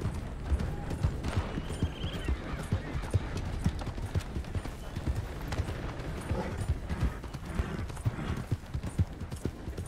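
Horse hooves clip-clopping steadily in Red Dead Redemption 2, a continuous close rhythmic trot of a ridden horse with a brief neigh, heard alone over faint game ambience.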